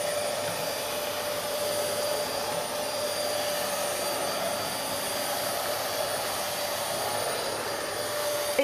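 A Hoover Globe GL1110 upright vacuum cleaner runs steadily while sucking up loose tea leaves from around a chair, giving a constant close whine and rushing airflow with no pauses.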